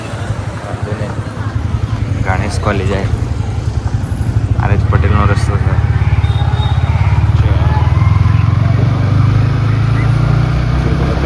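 A motorcycle rides along a sunny city road, its engine droning steadily and building slightly in the second half. Road and wind noise sit underneath, and a rider talks over it throughout.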